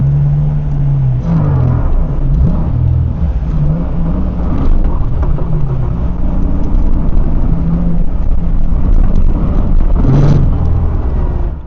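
A Nissan 350Z runs laps on a race track, its engine droning loud and close for the whole stretch, rising and falling through revs with brief surges and shifts and no talking.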